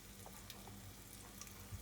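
Ground beef potato balls seasoned with turmeric fry in hot oil, giving a steady, soft sizzle and crackle with a few faint pops and no talking.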